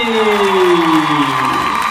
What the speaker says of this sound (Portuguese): Eu quero muitos aplausos para ele, Gatti!